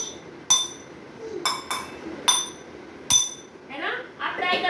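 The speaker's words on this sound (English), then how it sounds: "See how the glass is making sound." Several bright glass clinks from objects being struck during a nursery school sound-recognition activity, sharp separate taps spread over a few seconds, with children and adults talking in the background.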